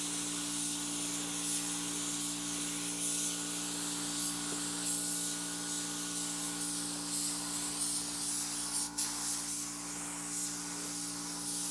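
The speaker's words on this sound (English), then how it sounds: "before I clear coat these, I have to peel up the tape that I put down just on these side markers" Spray gun applying clear coat to Subaru WRX headlights, a steady close hiss running throughout over a constant low electrical hum, with one brief sharper burst near the end.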